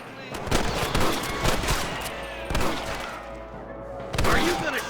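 Repeated gunfire from the Red Dead Redemption video game as rustlers are shot at, with several loud bursts and sharp shots spread across a busy, noisy scene and voices mixed in.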